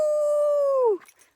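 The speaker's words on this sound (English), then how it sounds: "he does this like howl" A puppy gives one sustained, close howl that holds a steady pitch for almost a second, then slides downward and trails off into a few soft whimpers. The sound is heard alone.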